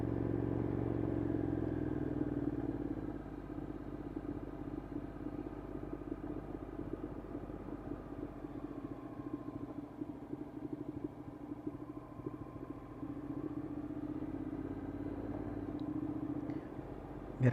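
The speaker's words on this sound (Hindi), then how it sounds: "आवाज़ से शायद आपको लगे कि मैं कोई स्पीडे शीडे मार रहा हूँ, लेकिन मैं इंजन की ब्रेकिंग पावर यूज़ कर रहा हूँ दूसरे गियर में" A Honda NC750S DCT motorcycle engine braking in second gear down a steep hill, a steady close low rumble with light clatter and wind that holds level throughout.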